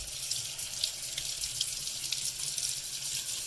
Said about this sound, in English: Rinse your mushrooms.